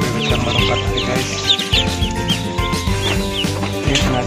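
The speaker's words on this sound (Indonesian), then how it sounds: "Umur bebek yang baru 4 hari guys." Four-day-old Peking ducklings in a small pen keep up a dense, continuous chorus of high peeps and chirps, close and fairly loud, with no talking.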